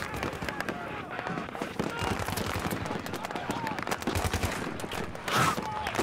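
Rapid gunfire in a Battlefield battle, dense crackling shots close by with a distant war-zone clatter, while someone talks over the shooting.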